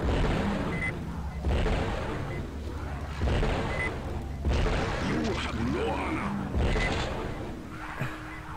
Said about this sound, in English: Alright, so I'm gonna pull out my rail gun.